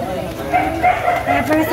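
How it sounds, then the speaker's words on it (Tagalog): Several dogs, stray rescues kept at a home, yip and bark in short repeated bursts at moderate distance, layered under ongoing talk. "Maraming aso kasi"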